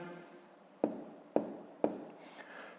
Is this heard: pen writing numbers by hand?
yes